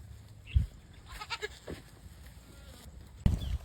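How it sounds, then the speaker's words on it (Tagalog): Male goat on a farm gives two short bleats a few seconds apart, faint amid quiet outdoor background with a little soft rustling. "barako kong kambing."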